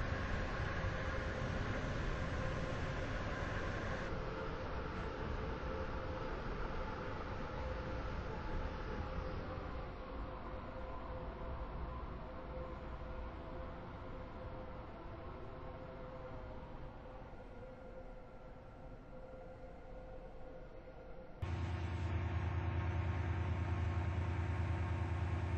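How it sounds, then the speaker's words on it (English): Train pulling in at a platform of Stepford Central station, a steady loud rumble of wheels and engine that holds for most of the span, then shifts to a brighter hum near the end. "The train now approaching Platform 1 terminates here."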